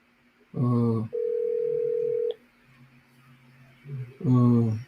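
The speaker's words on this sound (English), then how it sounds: "Let me pass a call through." Outgoing phone call ringback tone sounds as a steady electronic buzz in repeating pulses with a long flat beep between, near and clear, no talking.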